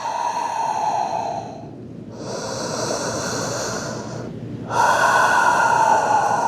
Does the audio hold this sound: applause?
no